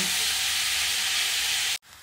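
Grated coconut is stirred in a hot wok, giving a loud, steady frying hiss and sizzle that runs unbroken and then cuts off abruptly near the end into quieter room sound.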